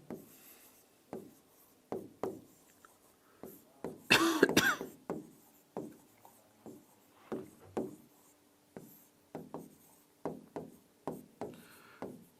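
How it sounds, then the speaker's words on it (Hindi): Chalk tapping and scraping across a classroom board as a teacher writes out a number question: a steady series of short, sharp strokes with a longer scratchy stretch in the middle, close and clear with no talk. "देखो यहां पे मैं क्वेश्चन लिखता हूं, ध्यान से देखना।"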